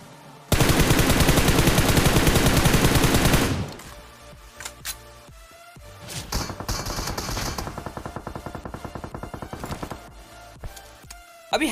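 A long burst of rapid automatic gunfire in a mobile video game, then scattered shorter bursts and single shots, loud and close.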